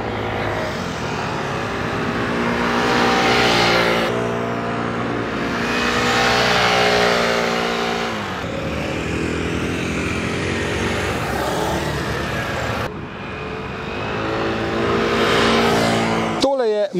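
A Piaggio Vespa GTS 125 scooter being ridden, its engine droning steadily and loudly, then rising and falling in pitch across several stretches of throttle.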